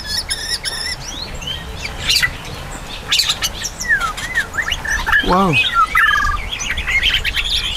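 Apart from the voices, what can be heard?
white-rumped shama singing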